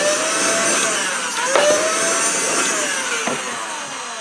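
A vacuum cleaner runs loud and close with a steady whine, sucking up plastic debris from an impact-tested PETG 3D printed part, the pitch sliding and wavering as it pulls at the pieces.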